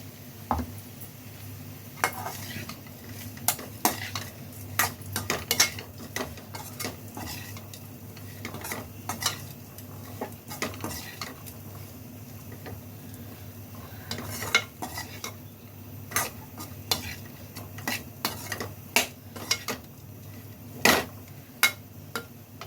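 Drumstick leaves are stirred together with ground dal powder in a pan over a low flame, giving repeated metal spoon scrapes and clinks against the pan over a faint sizzle, without speech.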